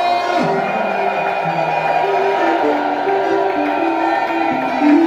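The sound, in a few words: congregation cheering with cries of joy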